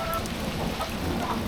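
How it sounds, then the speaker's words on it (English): Steady rain beating down with rushing floodwater during a storm outside a cabin under a tornado warning, a constant dense wash of noise with no pauses or talk. "Look at this water flowing."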